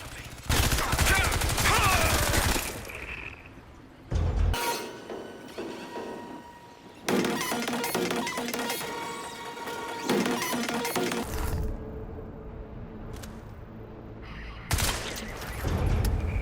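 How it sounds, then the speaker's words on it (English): A mounted machine gun fires on soldiers on a bridge in the video game Crysis 3, in loud, rapid bursts of gunfire with crashing impacts and short lulls between volleys. "I decided to use this mounted machine gun to kill the soldiers on the bridge"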